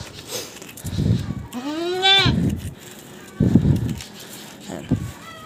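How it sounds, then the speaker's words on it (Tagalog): Goats on a farm bleat close by, one rising, wavering cry standing out among several short calls, with a person talking quietly in between. "So nilabas ko muna yung kambing natin para ubusin nila."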